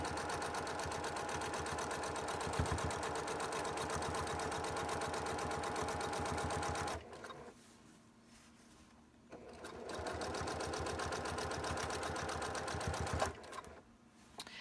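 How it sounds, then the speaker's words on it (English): Quilt fabric being sewn on a sewing machine: a steady, close mechanical whir of rapid stitching runs for several seconds, pauses briefly, then starts again and runs before stopping near the end. "When I started back up, I'd start back up back here, so that I'm re-stitching over and tying threads in"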